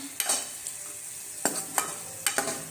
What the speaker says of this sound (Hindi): अब जो है हम इन मसालों को अच्छे से मिक्स करेंगे